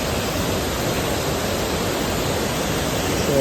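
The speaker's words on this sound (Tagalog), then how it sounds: "So ito yung Mother Falls dito sa Baler, Aurora." Mother Falls in Baler, Aurora pours in a steady, dense broadband roar, close and unbroken throughout, with no voices over it.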